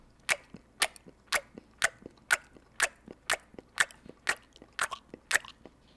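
Loud open-mouthed chewing, about a dozen sharp wet smacks at a steady rhythm roughly every half second, close and alone with no talk.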